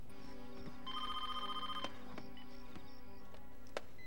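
A telephone rings indoors, a steady electronic ring tone with a few sharp clicks and knocks over it, moderately quiet with no talking.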